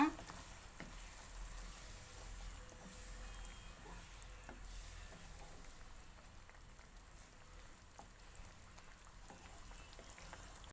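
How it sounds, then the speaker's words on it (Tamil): A thick paneer gravy bubbles and sizzles steadily in a pan, with faint scraping of stirring and occasional soft ticks, no talking. "கிரேவி வந்து நல்லா கொதிக்க ஆரம்பிச்சிருச்சு."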